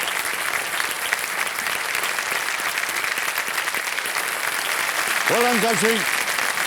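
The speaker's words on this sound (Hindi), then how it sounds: "तालियां बज जाए इनके लिए" A studio audience at the KBC quiz show applauds steadily, a dense continuous wash of clapping throughout, with a brief spoken line from a host over it near the end.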